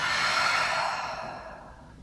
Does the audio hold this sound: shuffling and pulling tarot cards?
no